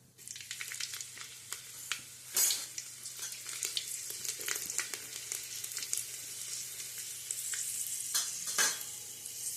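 A few garlic cloves drop into hot oil for a Gujarati tempering and keep up a soft, even sizzle, broken by sharper spits and a couple of louder crackles, with no voices.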